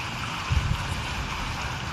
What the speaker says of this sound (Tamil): பாருங்க டிராக்டர் இதே ஓடிட்டுருக்குது